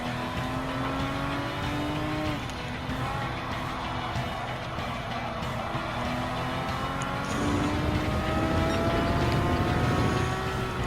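A 2016 Porsche Cayman GT4 engine drones steadily in a Gran Turismo 7 time trial at the Nürburgring GP circuit, its pitch sweeping up and down through gear changes and building louder toward the end.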